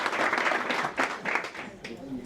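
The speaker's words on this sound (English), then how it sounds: "clap your hands, clap for yourself" Audience at a seminar on overthinking and trading claps hands in a steady, fairly loud burst of applause that mixes with crowd noise and some voices.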